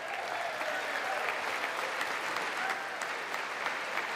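A crowd at the State of the Union address claps steadily throughout, a dense continuous wash of applause heard from a distance, unbroken and even in level.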